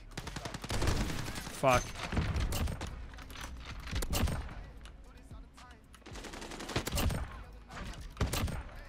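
Sniper gunshots in the video game Modern Warfare, a few sharp loud cracks spaced out over several seconds, with excited voices talking between and over them.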